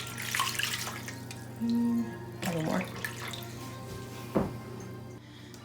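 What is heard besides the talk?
water pouring for cheesecake water bath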